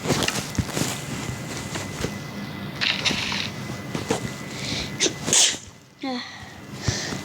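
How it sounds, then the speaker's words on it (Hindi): A single sharp human sneeze bursts out near the mic over a noisy background of shuffling and movement sounds during gameplay. "गलती से थोड़ी सी छींक आ गई थी"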